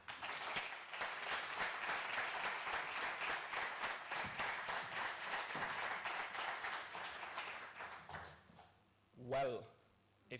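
A crowd at a live institute event applauds steadily for a speaker being introduced, dense clapping holding for about eight seconds before fading, then a short voice and a bump of noise at the end.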